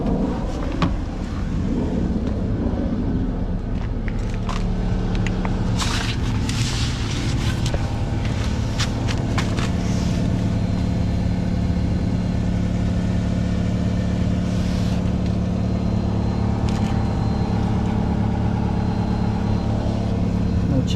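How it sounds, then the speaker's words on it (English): A Hyundai or Kia car idles steadily with a low, even engine hum throughout, heard up close under a vehicle after a rusted fuel tank replacement, with a few faint clicks and knocks over the continuous drone. "Okay, well the car's idling."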